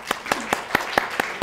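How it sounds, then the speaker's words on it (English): Audience at an award celebration for inductees claps in a sparse, rhythmic way, about seven distinct handclaps spaced evenly across a moment, fairly close and moderately loud. "So an applause for all of them."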